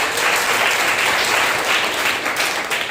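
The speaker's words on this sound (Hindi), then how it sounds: "एक जोरदार ताली बजाओ।" Church congregation at a Sunday morning service breaks into loud, dense applause, a steady wash of many hands clapping with no pauses.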